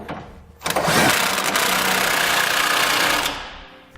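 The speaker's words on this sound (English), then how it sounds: "We're going to be using a 24mm socket to tighten them up." A 24mm socket tightening bolts on a B and W underbed gooseneck trailer hitch under a 2018 Chevrolet, giving one loud, steady mechanical whir of about three seconds that stops abruptly.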